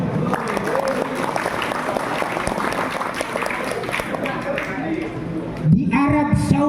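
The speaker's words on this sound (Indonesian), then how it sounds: "Tepuk tangan dong" An audience at a religious talk on Nusantara and halal bihalal breaks into steady, dense applause and crowd noise that fills the space, easing toward the end as a voice comes back in.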